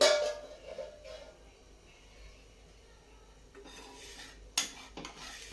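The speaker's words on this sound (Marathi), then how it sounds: "आता मी झाकण काढून घेत आहे" A lid lifted off a pan of semolina dosa, a brief metallic clatter at the start, then quiet low sizzling, with another sharp clink of cookware near the end.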